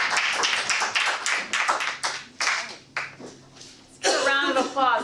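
A small audience at a Toastmasters club meeting breaks into brief clapping near the end, after a stretch where a person speaks over a few scattered handclaps.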